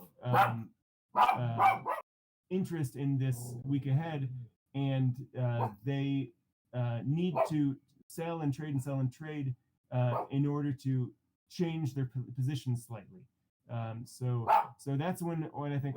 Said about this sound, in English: He's very mad because there's a dog across the street barking at him.